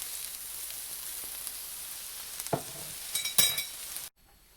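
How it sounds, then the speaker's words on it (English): A tortilla heats in a pan with a soft, steady sizzle, quiet and close, with a couple of brief scrapes or taps near the end before the sound cuts off. "So I'm heating up a tortilla."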